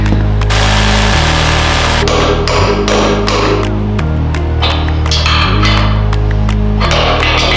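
A power tool drives anchor bolts into a two-post car lift in a home garage shop. Loud, close mechanical hammering comes in rhythmic bursts with a droning tone that shifts pitch between runs.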